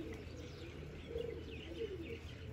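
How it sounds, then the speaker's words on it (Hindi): Soft pigeon coos and a few faint chirps drift in over a quiet background hum, distant and gentle, with no talking. "बाकी ये अपने कबूतर सारे घूम रहे हैं"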